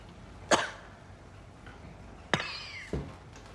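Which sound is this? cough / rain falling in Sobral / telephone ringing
cough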